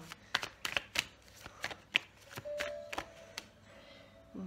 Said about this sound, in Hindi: I want to shuffle them